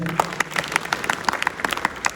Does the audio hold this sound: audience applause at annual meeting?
yes